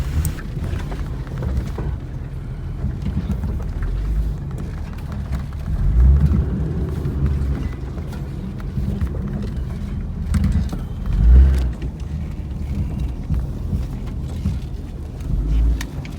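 A Jeep four-wheeling across steep desert mountain terrain near Desert Hot Springs, its engine a continuous low rumble with a few heavier surges and thumps as it crawls over rough ground, with no talk.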